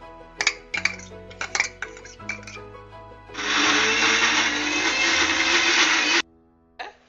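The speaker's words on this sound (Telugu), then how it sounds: "వేయించుకున్న మెంతులు జీలకర్రని ఇప్పుడు మిక్సీ పట్టుకోవాలి." A mixer grinder blends fried fenugreek, cumin and onion into a paste, giving a steady, loud whirring grind of about three seconds after several clinks of the jar and lid, then stopping abruptly.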